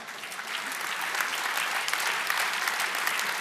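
An awards ceremony audience breaks into steady applause, a dense wash of many hands clapping at a moderate distance, even and sustained throughout with no voices on top.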